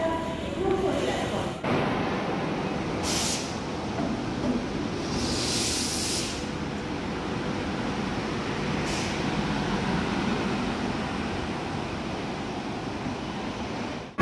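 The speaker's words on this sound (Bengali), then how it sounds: "আর এই ট্রেনটা আপাতত ঢুকছে" The Shatabdi Express pulls into a platform on the Howrah to New Jalpaiguri route, a steady broad rumble of the arriving train with a few short hissing bursts like air brakes releasing.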